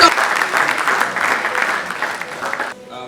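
An audience at a university energy symposium applauds to welcome its chapter president: a brief, thick burst of many hands clapping, with some voices mixed in, ending abruptly after about three seconds.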